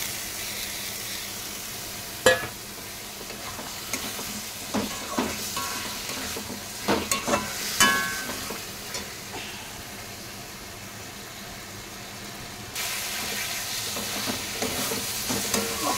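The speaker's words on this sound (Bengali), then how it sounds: "ওর মধ্যে ঝিঙেগুলো ঢেলে দেব।" Ridge gourd sizzling as it fries in a pan for a vegetarian dish with potato and lentil dumplings, with steady crackle and repeated scraping stirs close by, a few sharper clinks, and the frying noise growing brighter near the end.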